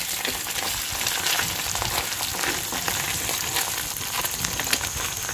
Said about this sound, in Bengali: ভালো করে লাল লাল করে মাছগুলো আমি ভেজে নিচ্ছি